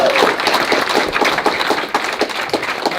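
An audience claps at a tea party political gathering, a brief burst of dense, fairly loud applause that runs steadily for a few seconds.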